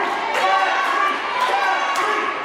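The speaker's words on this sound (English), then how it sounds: "Now we've got opposing chants." A wrestling crowd at Hinton trades opposing chants, a dense, loud wash of rhythmic voices and shouts with periodic bursts, filling the hall continuously.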